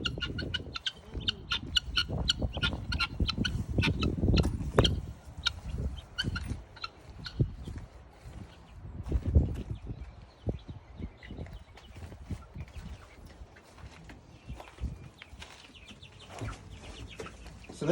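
Small young chickens cluck and peep in an outdoor chicken coop on a farm, with many short calls scattered irregularly throughout, fairly close and moderately loud.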